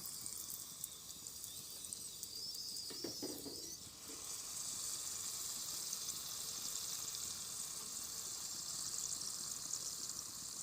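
Puri frying in hot oil, pressed lightly with a ladle, gives a steady close sizzle throughout, with a short scraping clatter of the ladle partway through.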